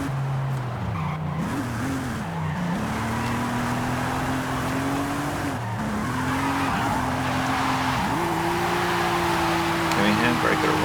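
Tires squeal and skid in Forza Horizon 5 as a powerful European car is handbraked around a corner, loud, sustained rising tones over steady engine roar, with a person talking over it.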